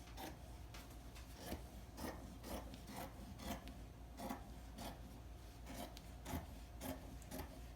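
Fabric for a half circle skirt is cut in a quiet room, with repeated short rasping snips and rubs at an irregular, fairly quick pace, close and soft.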